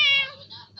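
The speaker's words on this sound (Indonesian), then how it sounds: "Meow." A single drawn-out cat meow, close and fairly loud, with a falling pitch and a softer tail at the end.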